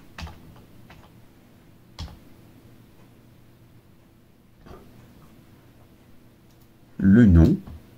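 Sparse typing on a computer keyboard while entering names into an Excel spreadsheet: a few isolated soft clicks spaced seconds apart over quiet room tone, followed by a short burst of speech near the end.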